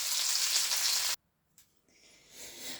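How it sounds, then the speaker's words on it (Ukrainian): Beef pieces fry in a single layer of oil in a pan for homemade beef stroganoff. A loud, steady sizzle cuts off abruptly, then a softer sizzle swells back in. "Нам потрібно воно підсмажене, а не підварене, тому старайтеся одним слоєм його обжарити."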